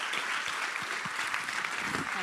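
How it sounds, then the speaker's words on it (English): Applause for panelists at an awards ceremony, a fairly quiet, sustained crowd clapping heard from a distance, with faint speech murmuring underneath. "So a big round of applause to them as we move on to the next stage."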